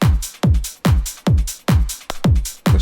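Top drum loop from a sample pack: punchy repeating hits with bright, crisp percussion tops, a steady groove of about a dozen strikes in under three seconds, loud and alone.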